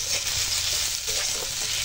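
A short burst of steady sizzling from a pan, with soft scraping as fried food with onion is stirred and mixed.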